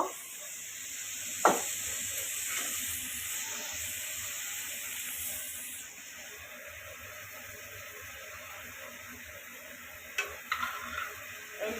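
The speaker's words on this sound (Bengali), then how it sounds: "তারপরে দিয়ে দিচ্ছি আমি কই মাছগুলো দিয়ে দিব" Koi fish fry in a pan with tomato, giving a steady soft hiss and sizzle, with a sharp clink of utensils near the start and a few light taps toward the end; no one speaks.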